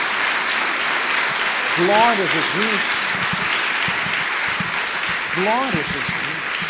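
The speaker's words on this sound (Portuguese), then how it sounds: "Dê uma salva de palmas a Jesus." A church congregation claps steadily through the whole stretch while a preacher shouts praise over it, his voice rising above the continuous applause.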